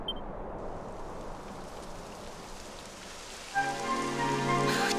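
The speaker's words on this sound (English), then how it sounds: "It would have to go and start raining, wouldn't it?" Rain begins falling in the video game Dragon Quest XI Echoes of an Elusive Age, a steady soft patter that swells and brightens partway through, with a few faint tonal game sounds entering near the end; no talking.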